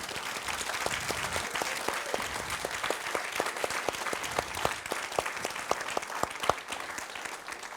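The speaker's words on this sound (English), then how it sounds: "I want to just give you a little round of applause" A live cookbook event audience claps steadily for several seconds, a dense patter of many hands with a few louder individual claps standing out.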